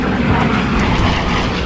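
Engine roar of a WWII Helldiver dive bomber diving on an attack run carrying a 1,000-pound armor-piercing bomb, a loud, steady, unbroken drone filling the whole moment.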